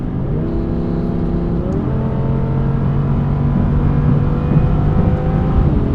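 An Audi R8 RWS, rear-wheel-drive V10 sports car, accelerates hard through the gears, its engine note climbing, dropping at each shift and climbing again, loud and close from inside the cabin with no talking.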